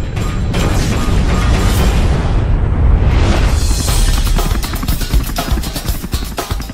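Rumbling, roaring explosion effect for the Tunguska blast over Siberia, a dense sustained wall of low booming noise and crackling debris that swells and then breaks into scattered crashes.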